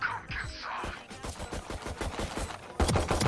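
Rapid automatic gunfire from a Valorant match, bursts of sharp repeated shots in a steady rhythm, loud and close, with a heavier burst near the end.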